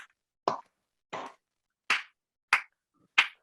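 Handclaps from people clapping along over Zoom, five sharp single claps in a loose, slightly uneven rhythm with silence between each.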